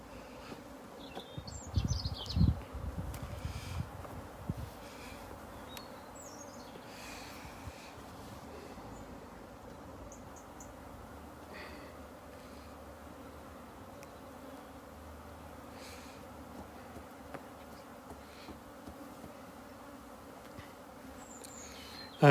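Honeybees around a hive box buzz in a steady, fairly faint drone, with a brief louder rumble early on and occasional high buzzes of individual bees passing nearby.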